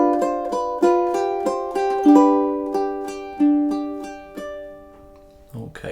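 Ukulele playing measures 15 and 16 of a song, a run of evenly spaced plucked notes ringing close and clear, ending with a brief burst of speech.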